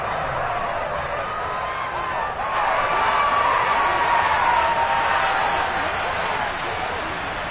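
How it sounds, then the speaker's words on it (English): A football stadium crowd cheers for the defense, a steady broad roar that swells louder midway and holds, with announcers talking over it. "How about some applause for the defense there?"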